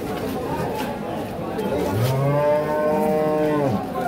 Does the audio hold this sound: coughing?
no